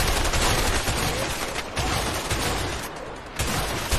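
Gunfire rattles in the co-op prison-escape game A Way Out, a loud, dense, continuous stream of shots with brief gaps between bursts and no talk over it.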